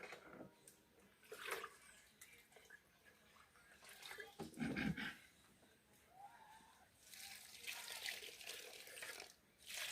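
Water from a bucket is poured over freshly grated coconut to squeeze out the milk for homemade Jamaican coconut oil, making faint, uneven splashing and trickling in soft bursts.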